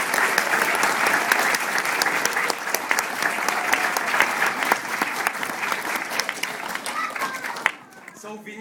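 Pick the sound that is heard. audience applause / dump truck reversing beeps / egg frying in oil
audience applause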